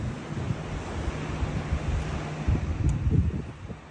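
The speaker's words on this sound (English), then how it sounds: "these waves you can hear 24/7" Ocean waves on the Ecuador coast wash in a steady, broad surf roar at low tide, with a few louder breaking swells and some wind across the microphone.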